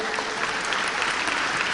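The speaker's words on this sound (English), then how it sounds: "Give applause to our students." Audience at an Indonesian university language and education seminar applauding students, steady dense clapping filling the room at moderate loudness throughout, with no talk over it.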